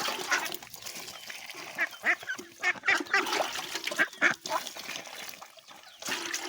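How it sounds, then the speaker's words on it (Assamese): Domestic ducks quack and honk in short, irregular bursts close by, the loud calls rising and falling against a quieter background. "এইকেইটা আমাৰ হাঁহ।"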